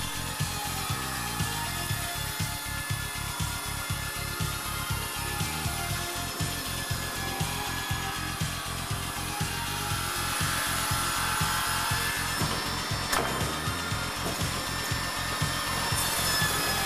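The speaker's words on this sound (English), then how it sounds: "The labor-intensive job of ripping large beams and ripping valley or hip beams" A Hundegger K2i joinery saw rips large wooden beams, a loud continuous industrial roar of blade and machinery with a steady rhythmic pulsing and brief sharper noise near the end, with no talk.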